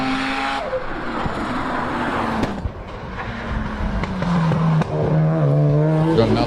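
A rotary-engined race car buzzes up a hillclimb course, a high revving engine that drops and rises through gear changes, fairly near and loud.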